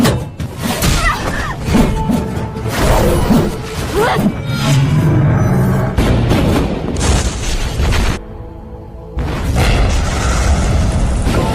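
A ship blown apart by a loud explosion in a martial-arts drama, heavy booming blasts and crashing debris rolling across several seconds, a brief drop-out, then the roar resuming with faint voices beneath.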